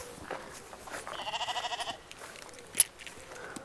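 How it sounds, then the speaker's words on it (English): Sheep bleat in the Yorkshire Dales countryside: one drawn-out, wavering bleat rises clearly in the middle, with quieter outdoor noise around it and a brief sharp sound near the end. "They'd keep you awake at night, these sheep."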